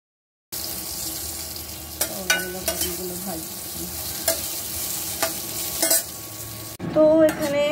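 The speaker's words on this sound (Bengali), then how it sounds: "আগে একটু নুন দেব, তারপরে পটলটা ভাজতে দেব।" Pointed gourd (potol) fries in a pan in a home kitchen, giving a steady, close sizzle broken by repeated clatters of stirring, with a brief louder burst of spitting near the end.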